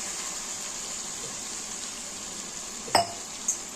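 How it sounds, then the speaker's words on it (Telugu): Water is poured into a pan of frying masala for chicken gravy, making a steady close hiss and gushing sizzle, followed by a couple of sharp clinks from the pan. "వాటర్ వేసుకుంటాం."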